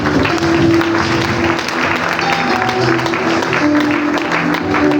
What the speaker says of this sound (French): tu mérites des acclamations ce matin